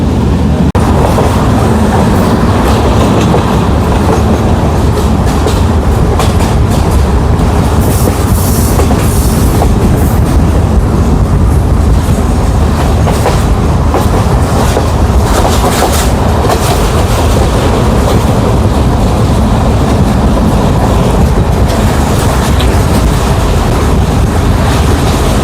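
A train travels from Bentota toward Hikkaduwa in Sri Lanka, loud and close from on board, with a constant rumbling roar, rhythmic clatter of wheels over rail joints and occasional metallic squeals.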